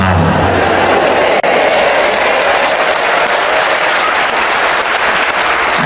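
An audience at a Catholic priest's talk breaks into sustained, dense clapping, loud and close, continuing evenly for several seconds with no voices on top.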